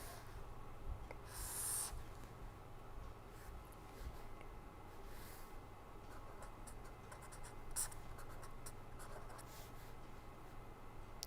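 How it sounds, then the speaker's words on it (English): A rotor system diagram is drawn during an engineering lecture, with faint, steady pen or chalk strokes scratching across a surface over a low room hum and a couple of brief squeaks. "let me just draw this"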